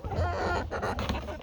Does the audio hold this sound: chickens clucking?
yes